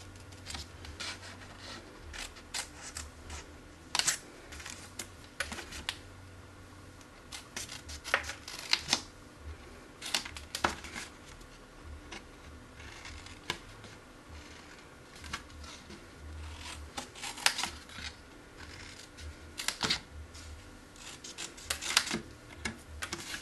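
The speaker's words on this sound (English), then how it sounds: "Then take the corners and just snip it at a diagonal" Scissors snip diagonally through the corners of cardstock for a chocolate bunny treat holder, a run of quick, crisp cuts at close range, scattered irregularly among soft handling rustles with no talk.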